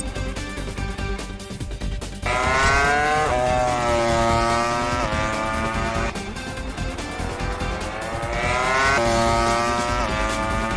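A MotoGP motorcycle at the Valencia Grand Prix circuit screams past loudly, its engine note rising and falling in repeated downshifting surges as it brakes hard into turn one, heard close against a busy track background.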